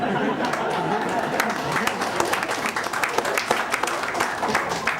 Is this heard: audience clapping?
yes